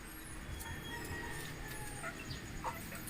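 Chickens on a farm cluck and call softly at a distance, faint against a quiet outdoor background with occasional bird sounds.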